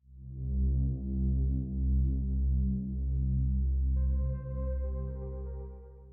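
Warm synth chord progression built in Ableton Live, with low sustained tones swelling and shifting between chords and a brighter upper layer entering partway through. The sound is smooth and moderately quiet, with no voices.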